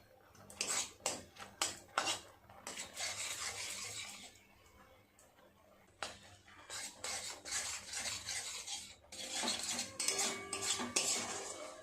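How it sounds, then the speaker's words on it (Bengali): Milk is stirred in a pan over a low gas flame while it cooks down for kalakand. A metal spoon repeatedly scrapes and clinks against the pan in rhythmic bursts, close and fairly quiet, with no talk. "এইভাবে গ্যাসের ফ্লেম কমিয়ে রেখে আস্তে আস্তে দুধটাকে একদম শুকনো করে নিতে হবে।"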